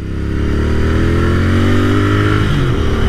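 Loud, close Royal Enfield Interceptor 650 engine note while riding, a deep throbbing parallel-twin drone with its pitch gently rising and falling, alone without talk.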